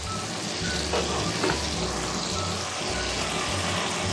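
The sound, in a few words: potatoes and masala frying in a covered pan for pea pulao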